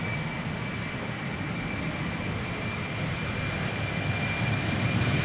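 Embraer 190 jet taking off from Amsterdam Schiphol bound for Aalborg, a steady engine roar with a thin high whine that swells slightly louder toward the end, no voices.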